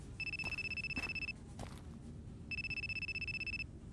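A telephone rings in the horror game Akai Onna with two bursts of rapid electronic trilling separated by a pause, clear and steady over a quiet background.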